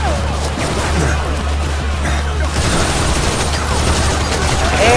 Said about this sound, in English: Everybody getting shot up.